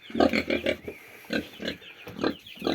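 Close, repeated grunts from a young pig in short rhythmic bursts, several snorts in quick succession with brief pauses between, in a quiet, dark farm shed.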